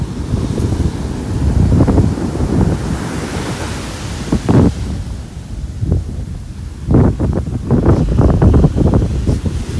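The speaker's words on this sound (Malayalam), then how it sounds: "വെള്ളമാണെങ്കിൽ അപ്പോഴപ്പോഴും ഈ കരയെ കയറിക്കൊണ്ടിരിക്കുകയാണ്" Sea waves wash onto the shore at Poovar, Kerala, a loud continuous surf roar with heavy wind buffeting the microphone and repeated bursts of breaking water, no voices.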